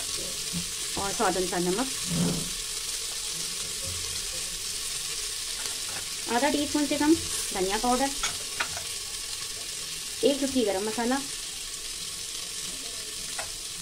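A drumstick (sahjan) curry with potatoes is stirred in a pan, giving soft scraping and sizzling in a few separate bursts over a steady frying hiss, while someone talks throughout.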